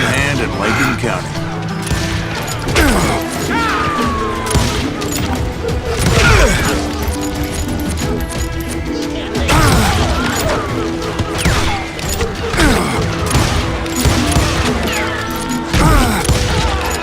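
Repeated gunshots and crashing impacts from a Wild West shootout in the video game Call of Juarez, bursts and single cracks spread densely across the stretch under a steady rumble of music and effects, with voices calling out between shots.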